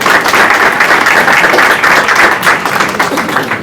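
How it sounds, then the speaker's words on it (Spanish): Loud, dense audience applause fills a startup and technology seminar hall as Mercedes Fury of Galicia Ventures is called to the stage, steady and sustained throughout with no voices over it. "Fuerte aplauso para Mercedes."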